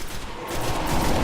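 Crisp weapon fire in Destiny, a rapid burst of close, loud gunshots that runs continuously through the short moment.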